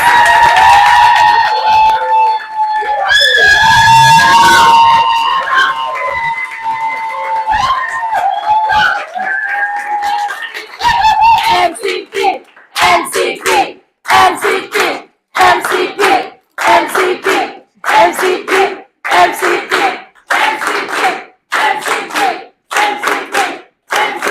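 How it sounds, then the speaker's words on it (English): Audience applause for candidates at an AIESEC Germany MCP election event, starting with cheering and whoops over clapping, then settling into a series of strong, rhythmic bursts of clapping that come and go in close succession. "A big round of applause for our candidates."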